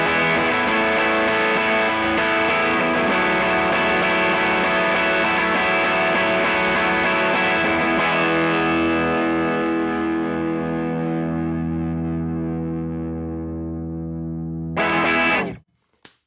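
Electric guitar through a Pettyjohn Electronics Chime MKII pedal with germanium clipping engaged: a sustained, distorted chord rings loud and long with a chorus-like shimmer, slowly decaying, then a brief strum and abrupt stop.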